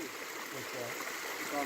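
Mountain stream flowing beside a trail at a water refill stop on the Great Divide Trail, a steady broadband rush of water, fairly quiet and continuous throughout.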